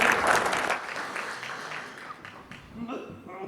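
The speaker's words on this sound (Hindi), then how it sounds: "एक बार जोरदार तालियां" An audience at a kavi sammelan poetry gathering in Pune applauds loudly, a dense wash of many hands clapping that slowly fades, with a voice starting to speak near the end.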